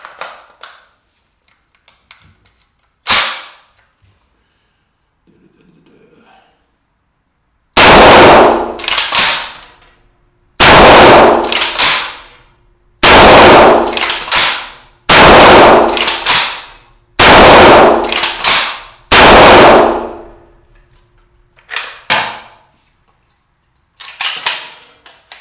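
A WBP Jack Tactical AKM rifle firing .223 Remington rounds outdoors, with a single early shot, then seven loud, sharp shots in a steady rhythm each followed by a short echo tail, and two more at the end.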